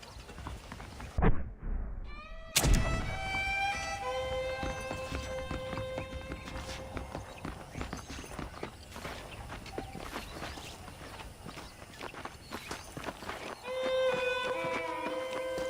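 Horse hooves clip-clop steadily in a walking rhythm, with a whinny and a sharp thud early on and ambient game sounds throughout, in Red Dead Redemption.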